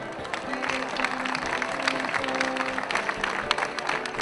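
Audience applause at a community associations fair, steady clapping from a crowd filling the whole stretch at an even level, with faint voices mixed underneath.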